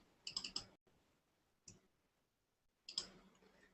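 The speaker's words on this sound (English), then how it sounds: "let me click this screenshot" Computer mouse clicks close to the microphone: a quick cluster of three or four crisp clicks, then a single click and after a pause another short burst, in a quiet room with no talk.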